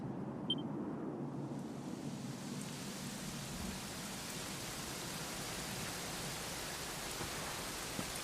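Steady rain hisses continuously in the video game Dragon Quest XI, with a soft low rumble underneath and no voices.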